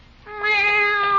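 A cat meows as a sound effect in an old 1949 radio comedy, one clear drawn-out meow close to the microphone, heard alone with no talk over it.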